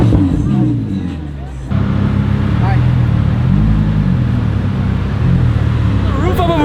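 A straight-piped Lamborghini Aventador SVJ engine rumbles loudly at a car gathering, with its idle note jumping to a heavier drone partway through, while people talk nearby.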